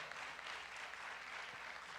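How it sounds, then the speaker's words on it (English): Graduating seniors at Piney Grove Boy's Academy receive a round of applause, a faint, steady wash of many hands clapping that sounds distant and continues evenly throughout. "Please give them one more round of applause."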